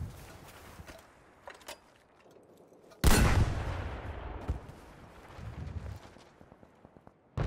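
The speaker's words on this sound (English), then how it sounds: "No, they're at the back, getting shot by a tank" A tank shot in a video game lands as one loud, sharp blast partway through, leaving a rumbling tail, with fainter distant gunfire and footsteps around it.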